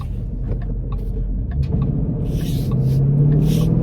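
A 2014 Ford Mustang GT drives gently on the road, its engine a steady low rumble that swells slightly as it goes, with tyre and road noise and no talk.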